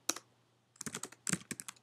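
Quiet keystrokes on a computer keyboard while writing code, a quick double tap, a pause, then two short bursts of rapid clicks, close and soft.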